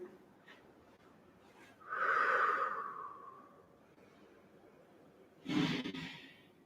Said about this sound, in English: Take 5 breaths here.